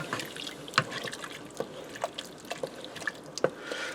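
A spoon stirs about two tablespoons of fresh chopped parsley into creamy beef and macaroni soup in a pressure cooker, giving faint, scattered wet clicks and soft scrapes at an irregular pace.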